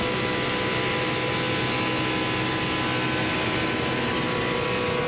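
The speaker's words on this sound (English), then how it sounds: "let's listen to how he's using his throttle in the corner" 2001 NASCAR Pepsi 400 race car at Daytona, engine droning loud and steady as the driver works the throttle through a corner, a continuous high-pitched roar with no talk over it.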